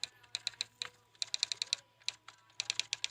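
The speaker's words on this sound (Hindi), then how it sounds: "ये टाइपिंग वाला टाइप करने वाला, ठीक है, MP3 है वो डाउनलोड कर लेना।" Rapid keyboard typing sound effect in MP3 form, with bursts of crisp clicking keystrokes in quick runs separated by short pauses, close and alone with no talk.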